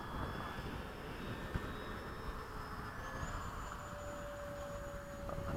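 An 80mm FMS Hawk RC jet flying at full throttle, a steady faint ducted-fan whine with pitch slowly rising and shifting as it passes at a distance, no talk.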